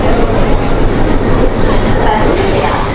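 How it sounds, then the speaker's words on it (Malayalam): An Ooty Nilgiri Mountain Railway toy train with a YDM4 diesel locomotive makes a loud, steady rumble and rattle of rolling wagons, heard close and continuous. "ഇതാ ഈ എൻജിനാണ് ഞങ്ങൾ ഇന്ന് വലിച്ചു കൊണ്ടുപോകാൻ പോണത്. 6681 YDM4."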